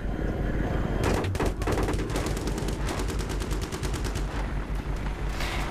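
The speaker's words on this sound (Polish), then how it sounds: "Patrz, strzelają do nas skądś." Rapid bursts of automatic gunfire in Battlefield 3 crackle in quick succession, dense and continuous, with sharp staccato shots layered over a steady rumbling background.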